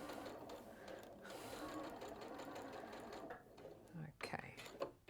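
Sewing machine stitching a patchwork seam, running steadily throughout with a continuous mechanical whir, close and moderately loud, with a few sharper clicks near the end and soft murmuring in the background.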